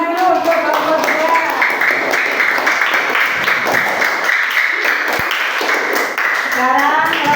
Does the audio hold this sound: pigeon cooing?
no